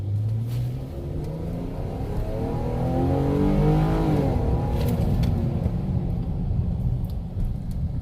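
A Ram 1500 pickup truck accelerates steadily from an eased start, its engine note rising through the gears in a loud, continuous drone with road rumble throughout.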